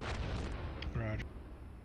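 Gunfire and artillery rumble in a combat scene, dense low booms and bursts at moderate level, with a brief radio-like voice cutting through midway.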